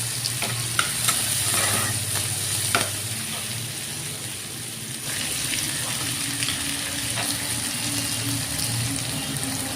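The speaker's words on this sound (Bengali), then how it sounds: "এটা ভালো করে ভাজা ভাজা করে আমি ডালের মধ্যে ছাইড়া দিব।" Garlic and chopped onion frying in oil for lentil dal, a steady close sizzle with occasional stirring clinks and scrapes, no voices.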